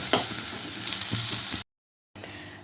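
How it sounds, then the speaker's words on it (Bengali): Salt-and-turmeric-coated shrimp sizzle lightly in hot oil, a close, steady crackle with a few stirring clicks, briefly cut to silence before the frying resumes. "নুন হলুদ মেখে রাখা চিংড়ি মাছগুলো দিয়ে দিলাম এবার হালকা করে একটু ভেজে নেবো"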